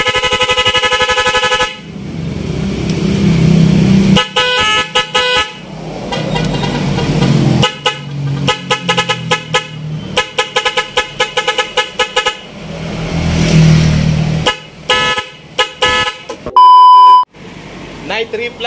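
A loud Nhay 3+ Pro Music horn fitted to a TMX 125 motorcycle plays a long run of shifting musical tones and melodic beeps, close and dominant. It breaks into choppy bursts and stutters, and one sharp high beep comes near the end.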